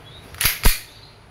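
Two sharp, close reports from an E&C airsoft Glock 19X Gen 5 two-tone pistol, spaced about a quarter second apart, each a crisp snap standing out against a quiet background.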